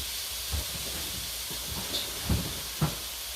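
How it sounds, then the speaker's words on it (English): Meat sizzles on a hot pad in a steady, close hiss, broken by a few soft knocks and clicks and no voices. "You hear the sizzle."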